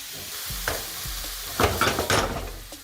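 Chickpea bhuna ingredients fry in a pan, a steady low sizzle broken by stirring scrapes, with a louder clatter of stirring in the second half.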